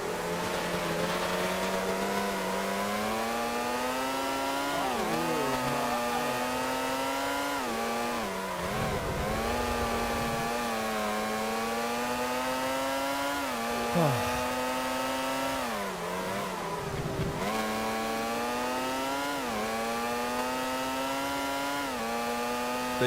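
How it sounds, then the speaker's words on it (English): Formula One racing car engines from the video game Formula One 2001 scream continuously at high revs, the pitch rising and falling through gear changes and corners, a steady loud whine running alone throughout. "I can barely hear over the engine sounds."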